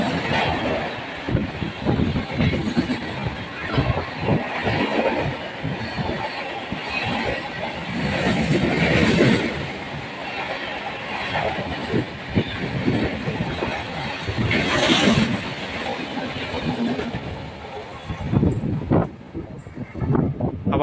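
The Azamgarh weekly express train rushes through a station at speed, a loud sustained roar with rumbling wheels and rhythmic clatter over the rails that rises and falls for about twenty seconds.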